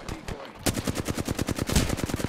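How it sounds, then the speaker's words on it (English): Rapid automatic gunfire in Apex Legends, a loud, fast run of evenly spaced shots that starts after a brief pause and keeps going without a break. "Somebody is shooting from the stairs over here"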